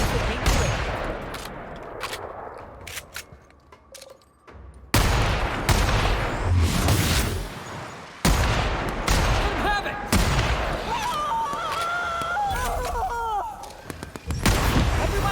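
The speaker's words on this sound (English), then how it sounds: "Okay, so I get a sneak shot on her." Gunfire and blasts in the sci-fi shooter The Outer Worlds, several loud bursts cutting in sharply over a busy, noisy battle, with voices talking and creature-like cries mixed in.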